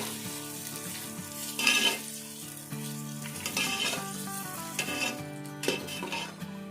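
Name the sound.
onions frying in a pan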